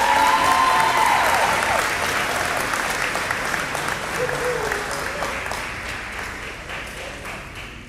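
Applause from a school athletic banquet audience after the MVP award, a dense steady clapping wash that fills the room and slowly tapers, with faint crowd murmur underneath.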